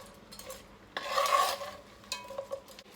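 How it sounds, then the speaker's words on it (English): Shrimp for keto jambalaya are stirred in a pan, a scraping swirl of utensil against metal over a soft sizzle, with a few lighter clinks after the main stir. "Give them a stir."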